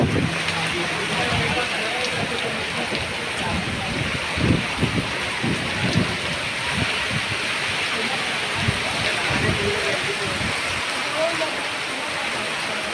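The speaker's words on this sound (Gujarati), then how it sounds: "ધોધમાર વરસાદ" Heavy rain driven by strong wind in Valsad, Gujarat, a dense constant hiss of downpour with rumbling gusts and splashing thuds throughout, loud and close.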